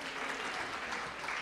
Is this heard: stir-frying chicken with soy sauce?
no